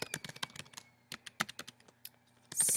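Keys clatter on a computer keyboard in quick, uneven bursts with short pauses, close and fairly clear, with no talking.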